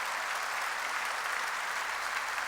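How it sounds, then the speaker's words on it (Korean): A church congregation claps in a dense, steady burst of applause that holds at an even level for a few seconds, with no speech over it. "아 박수 치려면 세게 치라고."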